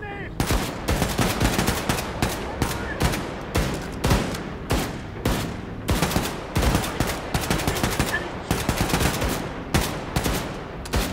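Enemy gunfire in the shooter video game Wolfenstein II rattles in rapid automatic bursts, a steady string of sharp shots repeating throughout at moderate loudness, with little else audible.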